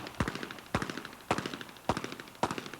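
Pistol shots at the Bianchi Cup moving target event: five sharp, loud reports spaced about half a second apart, each trailed by a short echoing decay.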